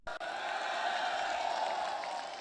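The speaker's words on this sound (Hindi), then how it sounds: "तो आज आपके लिए लोग तालियां बजा रहे हैं" A rally crowd applauds in a dense, continuous wash of clapping that starts abruptly and holds steady for a couple of seconds, fairly faint and with no one talking over it.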